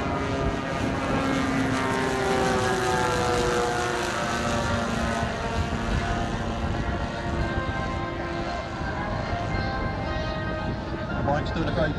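Giant 1/6 scale radio-controlled Avro Lancaster, a 17 ft span, 44 kg model with four 38cc petrol engines, running up at a model aircraft show, giving a loud, steady multi-engine propeller drone with beating tones that holds throughout.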